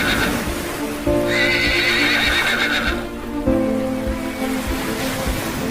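A horse pulls a tanga cart through deep floodwater in a cartoon scene, whinnying loudly with hoof clip-clop amid continuous rushing, surging water; no talk.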